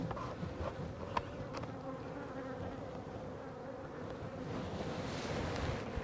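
Honeybees in a hive during late-season feeding, giving a dense, steady low buzz close by, with soft ambient wash and no voices.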